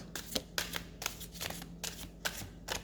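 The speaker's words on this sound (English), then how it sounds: "First shuffle I always use to clear the energy of the card." Cards being shuffled in several quick riffling bursts, close up, each a short crisp flutter separated by brief pauses, with a faint low hum underneath.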